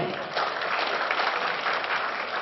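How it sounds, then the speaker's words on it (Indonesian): Audience applause for Mas Ferry at the Pesta Wirausaha Surabaya 2014 entrepreneur event, a dense steady clapping from a large crowd filling the whole moment without letting up. "aplaus paling meriah untuk Mas Ferry"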